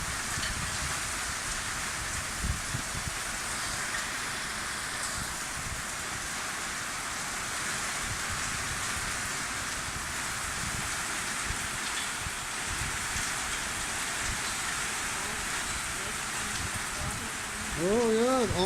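Heavy monsoon rain in Thailand pours steadily at a house, a dense unbroken hiss with patters of drops close by, and a voice briefly begins at the very end.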